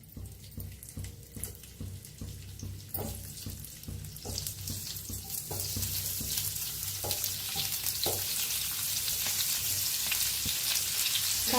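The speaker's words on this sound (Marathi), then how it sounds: "आता तेल गरम झाले. कारली सोडून घेऊया तेलात." Bitter gourd pieces fry in hot oil in a pan, starting with a run of rhythmic knocks and clicks over a low hum, then building into a loud, dense sizzle that fills the second half.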